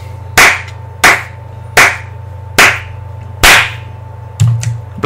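Five or six loud, sharp handclaps land in a slow, even rhythm, close by, followed by a softer double clap. No voices are heard.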